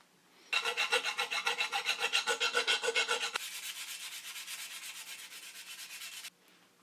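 Rhythmic rasping strokes of sandpaper on wood, fast and close, shifting partway through to a smoother, quieter continuous scrubbing before stopping.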